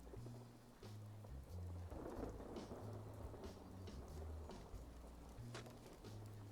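Steady rain with rolling thunder in the video game Fallout 76, a continuous wash of rainfall with low rumbles swelling and fading throughout, no voices.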